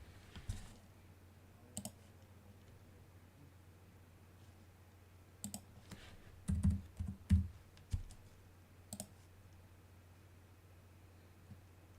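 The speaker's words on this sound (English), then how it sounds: "I was typing in my name on YouTube to pull up that guitar video" Someone types on a computer keyboard, and the sharp clicks come in scattered short bursts, loudest near the middle, with quiet gaps between them in a quiet room.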